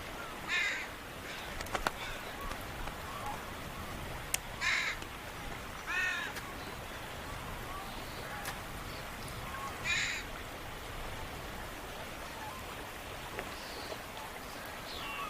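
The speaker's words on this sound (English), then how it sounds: "A crow flies up and drops a clam like a bomb onto the rocks" A crow caws on a rocky seashore in a few short, separate bursts spread across the clip, set against a steady wash of surf or rain-like noise.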